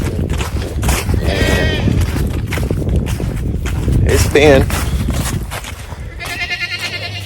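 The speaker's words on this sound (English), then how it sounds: "Y'all hear the calf, the goat." Goats bleat repeatedly at close range on a farm raising Kunekune pigs at morning feeding time, loud wavering cries rising between scuffling footsteps while someone talks over the animals.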